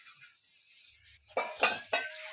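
Dishes and pots clatter in a home kitchen in three sharp, close bursts with metallic ringing, after a stretch of quieter clinking and faint rustling.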